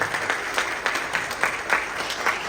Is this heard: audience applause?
yes